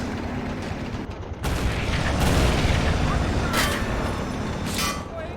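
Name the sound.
anti-aircraft gun firing in Men of War: Assault Squad video game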